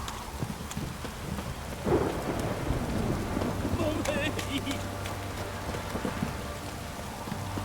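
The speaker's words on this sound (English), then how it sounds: "This downpour's a bastard" Steady heavy rain pours throughout in a video game, with a deep rumble of thunder rolling in partway through, dense and close, a low hum beneath.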